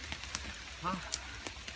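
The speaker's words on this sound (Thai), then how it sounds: "โอ้ฝนก็ตก แรงมากเลย" Heavy rain comes down in a mushroom-gathering forest as a soft, steady hiss with scattered patters, fairly faint, and a voice briefly murmurs underneath.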